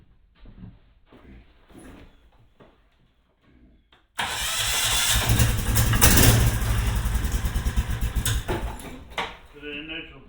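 A Club Car DS golf cart with a swapped Predator 459 engine cold-starts after some quiet talk nearby, cranking then catching into a loud, rough, close idle that rumbles on steadily.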